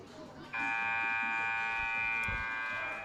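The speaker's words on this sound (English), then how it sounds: "Both buzzers have sounded." A loud, sustained electronic buzzer at a girls' high school basketball game (Lake Region vs Freeport) cuts in abruptly and holds steady for several seconds, with gym crowd noise beneath.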